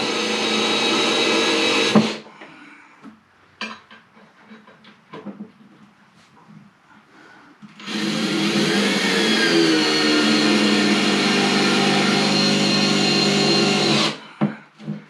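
A power drill drives screws into yellow pine to hold a straight edge, two long steady whirring runs of about two and six seconds, with quiet handling clicks in between.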